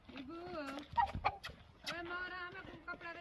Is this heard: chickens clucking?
yes